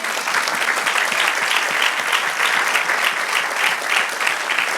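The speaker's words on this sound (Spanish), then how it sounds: "Dale un aplauso al Señor." A church congregation applauds at a Spanish-language worship service, a dense, steady clapping that fills the room for several seconds with no voices over it.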